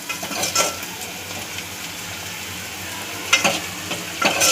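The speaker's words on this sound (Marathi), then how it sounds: "कांदा आपल्याला पैकी कलर येईपर्यंत भाजून घ्यायचा आहे" Onion frying in a pan for mutton curry, a steady sizzle throughout with a few sharp scraping stirs of a spoon against the pan near the start and end.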